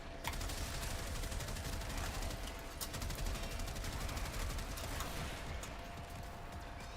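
Rifle fire in Warframe, a rapid, steady stream of shots running through the whole stretch at constant loudness, with a dense automatic rattle and no voices.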